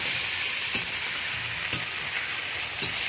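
Onion, tomato, ginger and garlic paste being stirred in a hot pan, a dense continuous sizzle with three distinct spatula scrapes or knocks spaced about a second apart, close up and without speech.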